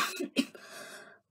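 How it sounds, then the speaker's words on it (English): One close, sharp cough breaks into two quick bursts, then trails off in a breathy, throaty exhale, heard alone in a quiet room. "I'm going to cough."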